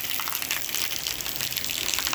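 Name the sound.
rain falling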